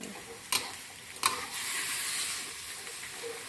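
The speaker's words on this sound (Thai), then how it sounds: "ผัดกันไปจนหมูสุก" Pork and squid stir-fried with holy basil in a hot pan, giving a steady sizzle and hiss with two sharp utensil clanks early on, close by and without talk.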